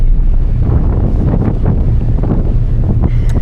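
Strong wind buffets the microphone on a ferry deck off Jeju, a loud continuous roaring rumble with gusty surges and sea noise underneath, no one speaking.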